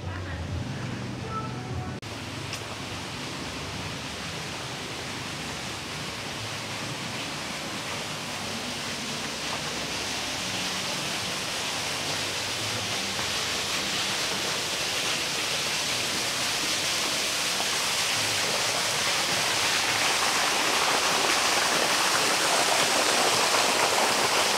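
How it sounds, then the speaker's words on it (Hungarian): Water pours down an artificial waterfall in a Bangkok park as a broad, steady rushing wash that slowly grows louder and nearer. "Mesterséges vízesés."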